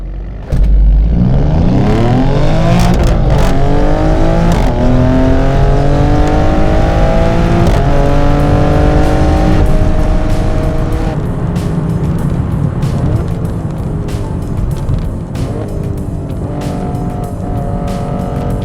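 Alfa Romeo Stelvio in race drive mode accelerating hard, its engine rising through several gears with loud, close revving sweeps, shifting pitch, tire squeal and a steady roar that fades slightly toward the end.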